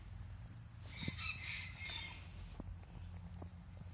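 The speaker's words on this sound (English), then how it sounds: "can you hear those birds over there? I'm not quite sure what they are. They're not chickens though, they're something else." Birds that are not chickens call from somewhere across a snowy winter allotment, a short cluster of faint, distant chirps and cries over a low, steady outdoor rumble.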